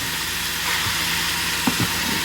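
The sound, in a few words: beef steaming in a pot with a little water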